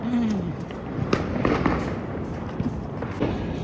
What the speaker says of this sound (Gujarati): અમને અહીંયા બોમ્બને ટીટા ફોડતા કલાકથી પણ વધારે થઈ ગયો છે